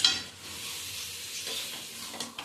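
Chicken stir-frying in a pan for Hajabarala chicken, a steady close sizzle under repeated scraping strokes of a spatula, with a few louder clinks toward the end.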